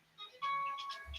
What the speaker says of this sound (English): a cute ringtone